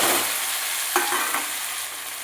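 Chopped onion and tomato fry in hot spiced oil with a steady loud sizzle, while a couple of stirring scrapes break through near the middle.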